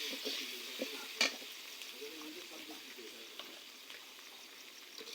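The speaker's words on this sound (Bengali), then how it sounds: "এবার এটাকে মশলাটাকে কষিয়ে নিব" Onion, garlic and ginger paste fried together with spices, then stirred in a pan as a masala, giving a steady soft sizzle broken by the scrape of the spoon and a few sharper clinks, heard close with no talking.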